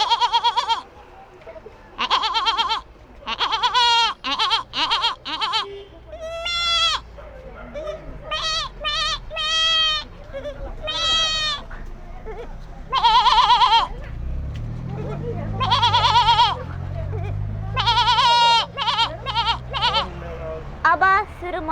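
A human voice imitates goat and billy goat bleats in six styles, three for each, producing a long run of quavering, wavering bleats with brief pauses and a lower guttural stretch midway, loud and close.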